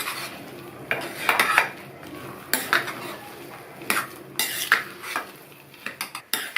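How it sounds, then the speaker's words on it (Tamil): Rava upma with roasted peanuts and cashews being mixed in a pan, a spoon scraping and clanking against the metal in repeated close bursts, some strokes sharp and bright. "வேர்க்கடலையும் முந்திரியும் சேர்த்ததுக்கு அப்புறமா நல்லா மிக்ஸ் பண்ணி விட்டுட்டு மூடி வச்சிடலாம்."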